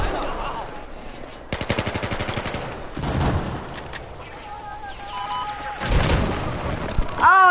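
Battlefield 4 combat, with rapid gunfire bursts and heavy booms up close, including a grenade blast, amid loud continuous battle noise and a few voice sounds.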